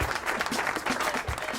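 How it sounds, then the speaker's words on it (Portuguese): A short burst of applause on a Portuguese-language running podcast, fairly faint and steady, with clustered claps pulsing through the whole stretch. "Muito obrigado, meu jovem, palmas!"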